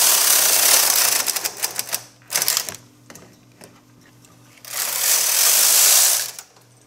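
A knitting machine carriage runs back and forth across sweater sleeve rows in quick mechanical passes: a rasping sweep, clicky rattles, then another long whooshing sweep, close and with no talk.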